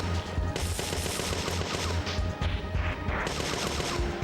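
Turret gunfire in Parasite Eve 2, a loud dense rattle of rapid machine-gun shots that runs without a break through the whole stretch, close and harsh.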